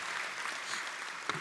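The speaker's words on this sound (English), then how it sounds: "So big round of applause for Coach Joseph." An audience at the Paycom Jim Thorpe Award ceremony claps steadily in a large hall, a soft, continuous patter of applause.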